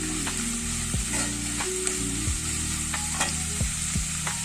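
Chopped onion and green chillies sizzle steadily in a hot pan, with a spatula scraping through them in repeated strokes over a constant crackling hiss, no voices.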